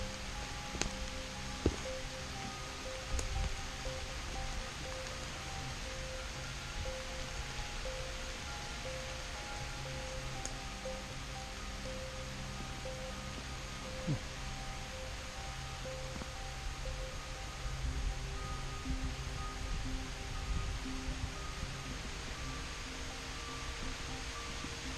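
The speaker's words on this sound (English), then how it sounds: "Raining in the woods a little bit here." Light rain falls steadily through the woods near old forest cabin ruins, a soft continuous hiss with occasional faint drips and rustles, even and unbroken throughout with no one speaking.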